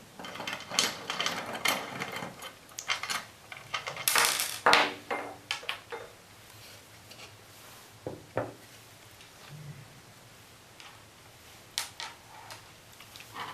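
Metallic ticks, clicks and ratcheting taps come from unscrewing the central hex bolt and nut on the air tank of a Medo LAM-200 air blower, busy and close at first, then thinning to sparse isolated clicks.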